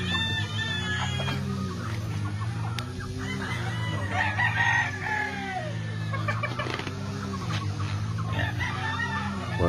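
Bruce Barnett pullets and chickens on a Philippine farm, with steady clucking and a rooster crowing through the whole stretch, close and busy over a low constant hum.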